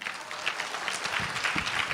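A church congregation at a morning prayer service applauds, a moderate, even patter of many hands clapping without pause, heard from within the room.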